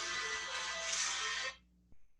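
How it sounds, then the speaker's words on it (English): A phone rings loudly and steadily for about a second and a half during an art club drawing class, then cuts off abruptly, followed by a faint click. "My phone keeps ringing."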